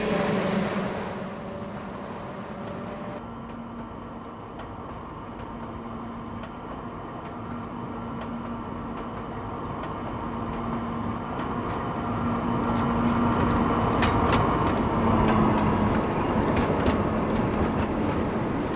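A Trainz 2019 locomotive rolls slowly down the line with a steady, continuous rumble and a faint tonal hum, growing slightly louder toward the end, with no talk.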